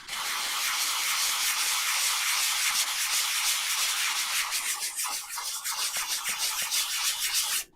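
A finger rubs a decoupage napkin down onto a paper envelope, a steady close dry scraping hiss that runs continuously with slight rhythmic pulses before stopping abruptly at the end.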